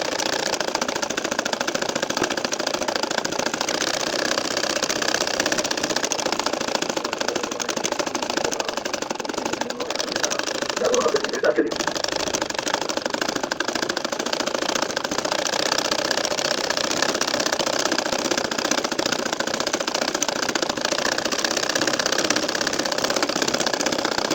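An ordinary sewing machine stitches a nakshi kantha quilt, giving a steady, continuous motor whir with rapid needle chatter that runs unbroken and close, briefly catching once partway through.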